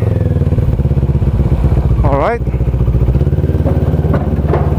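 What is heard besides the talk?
motorcycle being loaded onto a ship at Lucena Port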